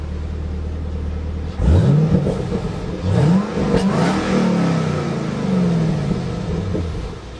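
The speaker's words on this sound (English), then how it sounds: "You hear that 2-mode exhaust system opening up as you climb through the RPMs." A 2012 Chevy Camaro ZL1 engine revs up hard several times in quick rising sweeps, its two-mode exhaust opening and growling louder through each climb before settling into a steady rumble.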